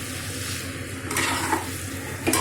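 Rice with jaggery being stirred in a pan over low heat, a steady sizzle with soft scraping strokes, close and unbroken, with no talking.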